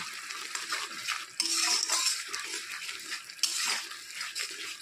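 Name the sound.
stirring and sautéing masala in a pan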